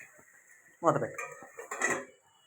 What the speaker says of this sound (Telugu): మూతపెట్టు.